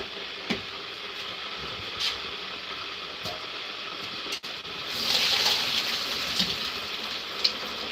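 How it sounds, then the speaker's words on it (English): Water for oha soup pours through a sieve, a steady splashing rush that swells louder about halfway through, with a few small clicks and knocks and no talking. "So I will sieve out the water and show you guys."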